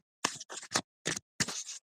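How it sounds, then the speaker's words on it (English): Tarot cards shuffled in five quick bursts, each a short crisp riffling flutter separated by brief pauses, close and fairly loud with no talking. "I'm shuffling some tarot cards to see what's up"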